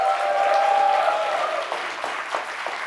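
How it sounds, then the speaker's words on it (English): An audience claps for guests joining a community event on stage, a steady round of applause across the whole stretch that thins slightly toward the end. "Big round of applause for them."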